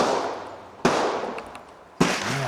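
Ruger rifle shots fired at an outdoor shooting range, three sharp loud cracks spaced about a second apart, each followed by a long echoing decay across the open range.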